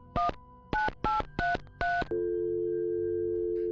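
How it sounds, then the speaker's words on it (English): Phone keypad dialing with five quick two-tone beeps in an uneven rhythm, followed by a steady continuous tone that holds clearly until the end. "He dialed on his phone."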